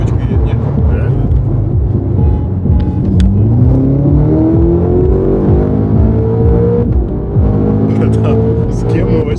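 A BMW M5 G90 races and accelerates hard, its engine note climbing steadily in pitch through gears, loud and close, with passengers talking over the continuous roar.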